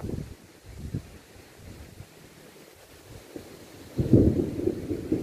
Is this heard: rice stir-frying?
no